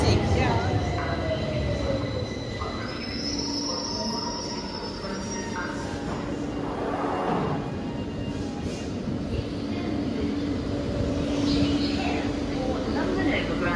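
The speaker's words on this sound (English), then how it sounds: "This is a Victoria Line train to Brixton." A London Underground Victoria Line train running toward Brixton, with a steady loud rumble of the carriage, wheels squealing and rail noise throughout, and an onboard announcement voice over the din.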